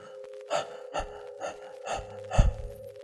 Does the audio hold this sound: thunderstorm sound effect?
no